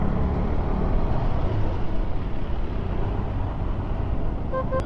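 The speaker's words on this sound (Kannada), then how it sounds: "ಟ್ರಾಫಿಕ್." Steady road traffic noise on a busy street in Goa, a dense continuous rumble of passing cars and heavier vehicles, fairly loud and unbroken, with no talk over it.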